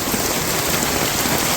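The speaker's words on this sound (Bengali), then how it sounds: "চমৎকার বৃষ্টি নামছে" Steady rain pours down in a village, a dense, even wash of falling water on surfaces close by, continuous and fairly loud with no pauses and no voices.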